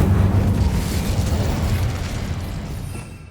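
Incendio fire spell cast in the Hogwarts Legacy video game, a loud roaring burst with heavy low rumble that swells at once and then slowly fades over a few seconds, with no voices.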